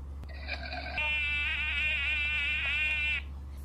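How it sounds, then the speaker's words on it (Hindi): A mosquito's thin, high, wavering whine holds steadily for about two and a half seconds close to the ear, then stops abruptly, over a low constant hum. "ये है मॉस्किटो जो आपको हमको सबको रात में परेशान करता है"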